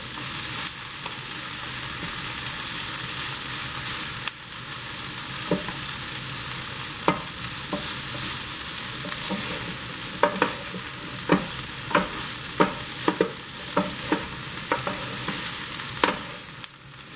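Salmon and shrimp sizzle steadily on an outdoor flat-top griddle, with a series of sharp metallic spatula scrapes and taps as the food is stirred and tossed, with no talking.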